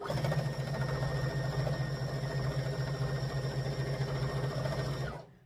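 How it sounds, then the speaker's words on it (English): A sewing machine stitches a quilted Christmas table runner, running in a steady, continuous mechanical whir at close range for about five seconds before stopping abruptly. "all we're going to do now is just sew"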